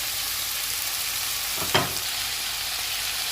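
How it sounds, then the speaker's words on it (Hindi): Chicken frying with capsicum and onion in a pan, a constant close hiss of sizzling oil with one brief scrape of stirring partway through, no talk. "इसमें हम शिमला मिर्च और प्याज को डाल देंगे और इनको 2 मिनट तक पकाएंगे।"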